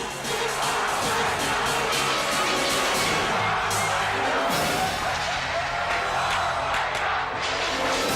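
Dense crowd noise at a wrestling event, with a roaring, sustained mass of voices that swells into chanting and cheering across the whole stretch, loud and continuous with no individual talk standing out.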